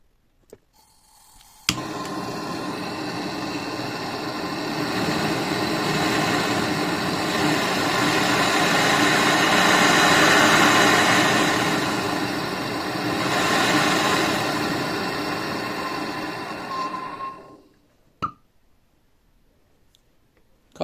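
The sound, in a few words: Mapp gas portable welding torch burning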